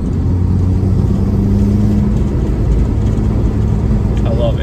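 Turbocharged car fitted with a CTS Turbo downpipe, its engine droning loud and close with a steady mid-pitched hum throughout, sounding like a run under power with no clear talk over it.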